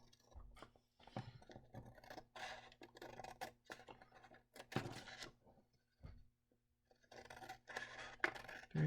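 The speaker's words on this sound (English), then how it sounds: "And then I need to cut a tab." Scissors snip a tab into chromatography paper in a lab with quick, close, faint cuts and scraping in short irregular bursts, no voice.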